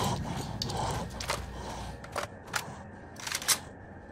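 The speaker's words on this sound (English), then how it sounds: "Hold on, guys, I gotta reload." A gun is reloaded in S.T.A.L.K.E.R. Lost Alpha: a quick series of sharp mechanical clicks and clacks, close and crisp, spaced over a few seconds.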